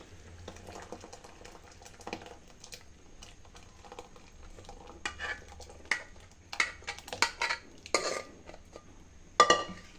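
A spoon stirs moong dal and sago payasam in a cooking pot, making faint metallic scrapes and clinks. They are scattered at first, then come in quicker irregular bursts toward the end, with no talk.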